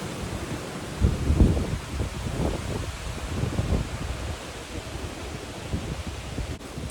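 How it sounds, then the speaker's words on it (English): Strong wind gusting on an Appalachian Trail hillside ahead of incoming storms, a broad roaring rush with heavier low buffets in the first few seconds, then a steadier, softer blow. "It's really windy because there are some storms rolling in that are supposed to hit tonight"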